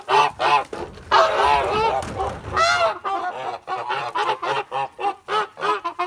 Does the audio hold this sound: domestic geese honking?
yes